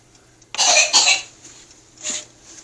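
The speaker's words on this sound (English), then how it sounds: "my son is coughing" A child coughs nearby, two harsh coughs in quick succession followed by a softer third cough.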